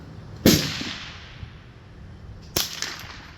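Two sharp shots from a suppressed Rossi RS22 rifle crack out seconds apart, each a quick loud snap with a short fading tail over quiet outdoor background.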